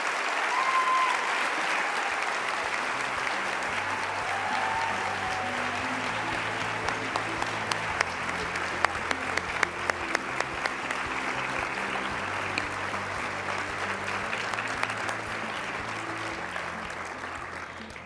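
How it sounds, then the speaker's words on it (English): An audience at a women's hall of fame induction ceremony in Arkansas applauds steadily for the inductees, a sustained wash of clapping with soft instrumental music playing underneath. "let's give one more round of applause for all of these amazing inductees tonight"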